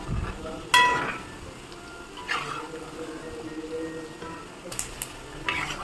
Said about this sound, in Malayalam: ഇത് ഇടയ്ക്കൊന്ന് ഇങ്ങനെ ഒന്ന് ഇളക്കി കൊടുക്കണം കേട്ടോ